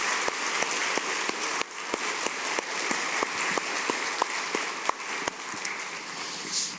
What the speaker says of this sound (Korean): 우리 칭찬 격려 박수 한번 좋겠습니다